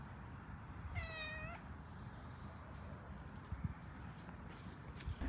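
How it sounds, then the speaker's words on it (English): A cat gives one short, clear meow near the start, fairly close, over a rough steady background of outdoor noise and scattered small knocks. "Don't know if this cat that Monica and her mum have befriended"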